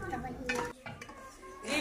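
Rice goes into a pot of sugar syrup for a sweet dish, producing brief stirring scrapes and clinks of a utensil against the pot, faint and close, with a voice speaking in the background.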